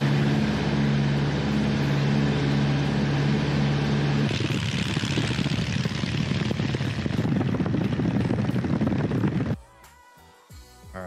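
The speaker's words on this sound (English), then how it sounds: "there's a white plane with some blue stripes on it taking off." Loud propeller engine drone of a small white plane taking off, rising into a roaring throttle-up, then dropping off abruptly near the end, leaving quieter background noise.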